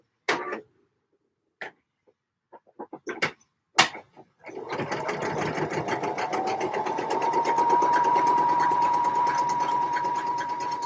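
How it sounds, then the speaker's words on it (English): Sewing machine stitching the final seam of a Vogue 8947 dress: a few clicks and knocks first, then a steady, rapid needle chatter that runs continuously and close. "Let us sew the final seam."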